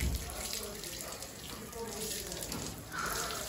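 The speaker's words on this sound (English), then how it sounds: "shower to Fox. He's a street dog" Water runs steadily from a tap or hose while a street dog is showered, a continuous close splashing hiss with a person talking over it.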